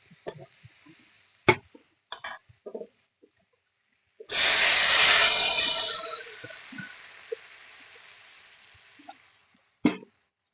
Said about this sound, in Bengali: সবজিগুলো মশলার সঙ্গে ভালো করে কষানো হয়ে গেছে, এখন আমি জল দিয়ে দেবো।